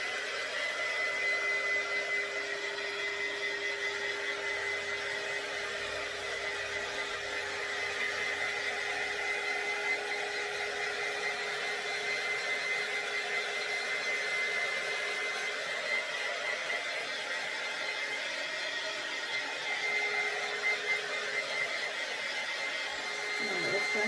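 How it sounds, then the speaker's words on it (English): Heat tool blowing steadily to dry white paint on a wooden sign, a continuous close whooshing hiss with a constant tone that runs unbroken for the whole stretch. "I'm going to go ahead and take my heat tool here and give it just a quick little dry"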